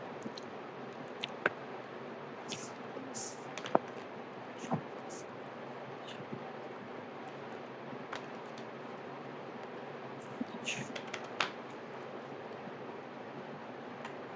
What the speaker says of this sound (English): If you want, you can skip this part of shuffling.